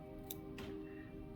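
Scissors snip hair while a Muddler fly is being tied, giving two brief, quiet clicks over a steady background hum with no talking.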